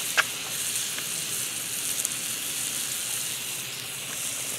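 An NY strip steak sears in a hot pan, giving a continuous even sizzle with a couple of small pops near the start.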